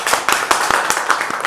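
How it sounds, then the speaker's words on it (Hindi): A crowd claps at an event honouring a six-year-old boy after his cataract surgery and lens implant, giving quick, sharp, evenly spaced claps, loud and close, with no talking. "बहुत जोरदार तालियां एक बार"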